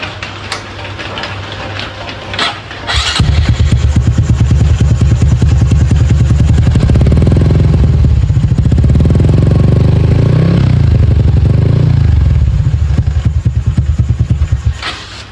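A Honda Wave 125 LED motorcycle, 57 mm bore with two valves and a mesh-core muffler, starts after a few faint clicks and settles into a loud, close, steady thumping idle with slight revving.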